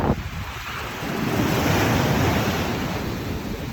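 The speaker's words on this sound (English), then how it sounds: "The waves are really, really big. It's destroying the beach." Big storm waves crash and roar onto Jomtien Beach in Pattaya, a continuous loud surf wash swelling midway, with heavy wind buffeting the microphone throughout.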